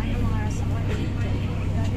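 Road traffic at rush hour in a downtown area, heard from inside a ride as a steady low engine rumble and road noise with voices talking over it.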